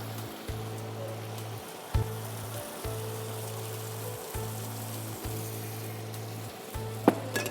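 Pieces of chicken sizzle and fry steadily in a hot pan for Afghani chicken, a constant hiss with occasional stirring clatter and no talking.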